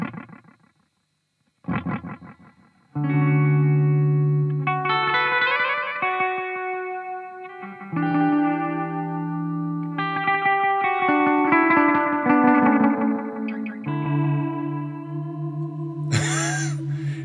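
Electric guitar chords run through a Beautiful Noise Effects Endless Sleeper delay pedal with wild modulation. Sustained notes wobble and shimmer in pitch, build into layered echoing washes, and ring out loud and close, with no talking.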